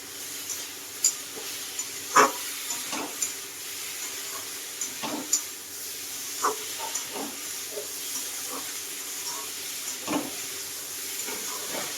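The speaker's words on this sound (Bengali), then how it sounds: "আস্তে আস্তে এটাকে কষতে হবে" Shing fish with ginger paste being slowly stir-fried in spices over low heat, a steady soft sizzle broken by occasional scraping stirs of the spatula, close and moderate in level, with no talking.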